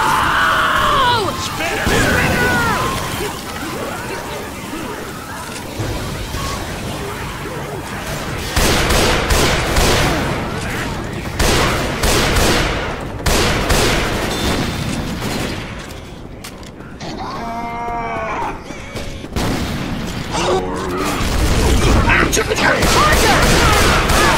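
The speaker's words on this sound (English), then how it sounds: "Now my grenade launcher has a purpose." Grenade launcher blasts and bursts of gunfire in the Left 4 Dead video game, with repeated booms and rattling shots throughout and players talking over the fighting.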